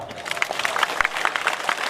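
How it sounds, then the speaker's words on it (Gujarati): A crowd at a political rally clapping, a dense patter of many hands that rises and falls in quick bursts for about two seconds, with no talk over it. "કેટલા આવવાના છે આ તું કઈ તાળીઓ પાડો"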